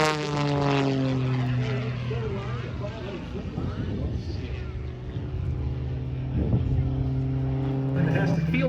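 Propeller aerobatic airplane at the Lake Cumberland Air Show tumbling through a flip top maneuver, its engine droning and sweeping in pitch as it climbs and rolls, loud and steady beneath an announcer talking over the public address.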